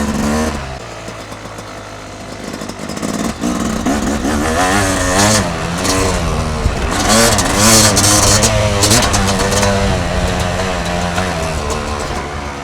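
A Yamaha YZ250 two-stroke dirt bike ridden in second gear, its engine loud and close, revving and rising in pitch with crackling bursts throughout.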